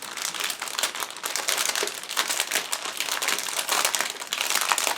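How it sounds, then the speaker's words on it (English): A plastic bag holding the sprues of an ICM 1/48 AT-7C/SNB-2C Navigator model kit is opened, giving loud, close, continuous crinkling and rustling. "all sprues are packed into the same plastic bag"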